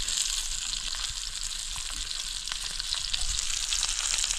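Mandeli fish sizzles in oil on a hot griddle set over a wood-fired stove, a steady close hiss and crackle running without pause and with no talking.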